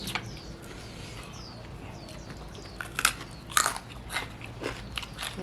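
Crunchy Thai papaya salad with crispy pork being eaten close up, quiet bites and crunches at irregular moments over low room noise, with faint birds in the background.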